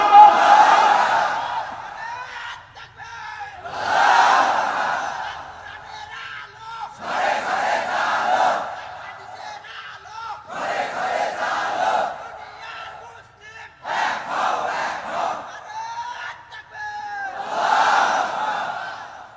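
A large crowd at a religious gathering roars the takbir in unison, six loud collective shouts in a regular call-and-response rhythm separated by brief silences.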